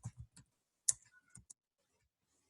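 Someone types a code comment on a computer keyboard: a few quiet, close keystrokes in small clusters, separated by short pauses, in an otherwise silent room.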